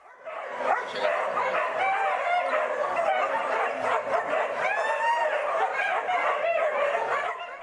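Many dogs bark and yip at once in a dense, overlapping chorus, close and continuous, with a rooster-like call mixed in.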